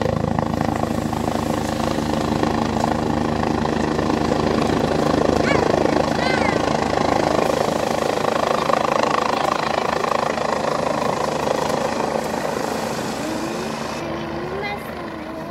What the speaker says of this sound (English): Look at the helicopter going to land on top of the hospital.